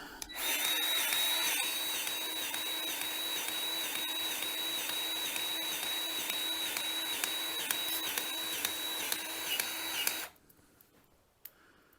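A power grease gun pumps grease into the shaft of a Western D8 spreader, a steady loud mechanical whirring with a high whine that runs for about ten seconds and then cuts off, leaving faint clicks.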